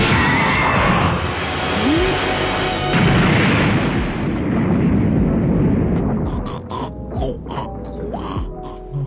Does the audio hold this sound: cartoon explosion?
yes